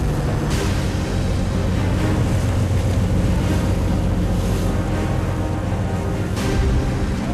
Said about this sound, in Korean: 갑자기 파도가 거세다.